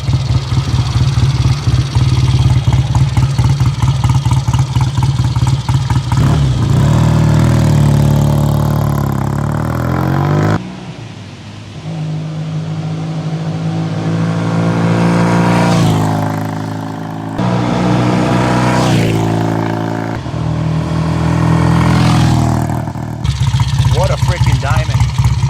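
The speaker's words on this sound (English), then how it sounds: "Do a drive-by so you can hear this twin fill the jungle with sound." A 1970 BSA Royal Star 500 twin motorcycle passes in a loud drive-by, its engine rumbling and revving up and down over about twenty-five seconds, swelling near and fading with gear changes.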